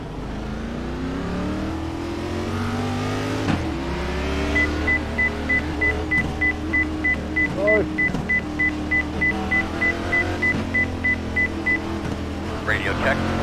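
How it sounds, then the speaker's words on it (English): A Ford NASCAR Cup car engine in the iRacing video game drones loud and continuous, rising in revs, with a fast pulsing beep running through the middle section and a person speaking over it. "will you just listen at that Ford engine?"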